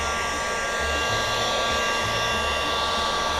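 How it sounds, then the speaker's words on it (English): A HomeRite Heat Pro Deluxe heat gun blows steadily and loudly at close range, used on an oyster shell wreath to melt away stray threads, a constant airy roar with no talk. "I'm just using my HomeRite Heat Pro Deluxe"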